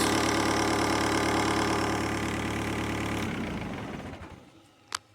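A TDI diesel engine swapped into a Toyota idles up close with a steady, loud, even rumble. It then shuts down and winds to silence, and a sharp click comes at the end.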